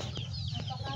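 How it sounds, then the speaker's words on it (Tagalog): Chickens clucking during feeding time, a steady close cluster of soft clucks and fowl chatter with faint background voices. "Napakain pa sa mga manok."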